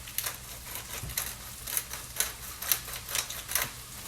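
Pepper is ground over a rice bowl, making a string of quick, crisp clicking ticks with an uneven rhythm, close and fairly quiet.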